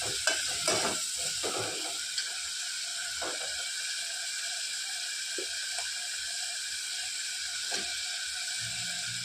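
Masala spluttering in hot oil with cumin seeds and curry leaves for a sprouted horse gram curry, a steady close sizzle broken by occasional sharp pops and stirring clicks.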